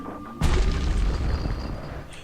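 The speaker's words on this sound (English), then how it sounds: "Hand grenade." Hand grenade explosion in the video game Bastion: a sudden loud boom with a deep rumbling tail that fades over about two seconds.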